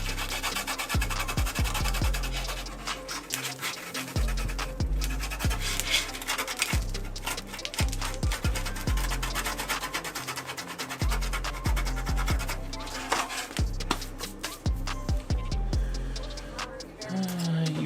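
A finger rubs paint off the body of a scale 1941 MB RC truck, producing close, repeated scratchy rubbing strokes in an uneven rhythm, with occasional soft breaths between them.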